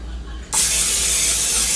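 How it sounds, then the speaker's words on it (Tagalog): Cooking spray hissing onto a roast pan, one sudden loud, steady spray that begins after a brief quiet moment and keeps going to the end. "Cooking spray."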